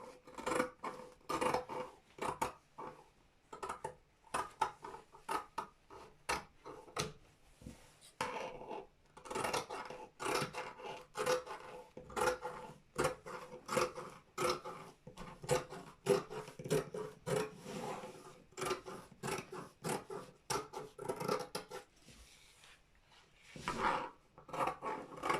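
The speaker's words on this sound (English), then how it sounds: "Cutting the back armhole first." Fabric is cut along a back armhole with scissors for an A-line gown: repeated close snipping and rustling strokes in an irregular rhythm, with brief pauses between runs of cuts.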